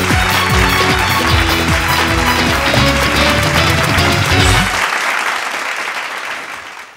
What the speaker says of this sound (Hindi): जोरदार ताली के साथ स्वागत कर जाओ दिलवाले।